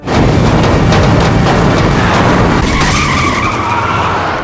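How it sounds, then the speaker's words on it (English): A car engine roars loudly and accelerates away, its steady rumble filling the whole stretch with a rising whine near the end. "The car door closes, the engine starts, and Shizuka drives the car towards the scho"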